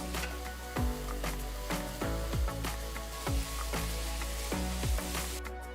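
Three large finely chopped onions fry in oil with cinnamon, cloves, cardamom, slit green chillies and curry leaves, giving a loud, steady sizzle with regular clinking stirs throughout.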